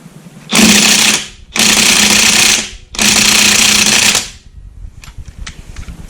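A DeWalt 20V DCF899D cordless impact wrench on setting 2 hammers at car lug nuts in three loud, close bursts of rapid rattling impacts, each about a second long with short pauses between, and then some faint clicks.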